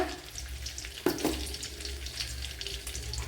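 A tablespoon of mustard seeds dropped into hot oil, a steady soft sizzle with a sharper splash as they go in, followed by light crackling and stirring.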